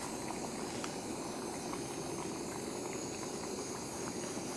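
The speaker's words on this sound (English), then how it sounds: "And we're boiling again." A pot of water boils at a campsite in Wild River State Park, a soft, steady bubbling and hissing that stays faint and unchanging throughout.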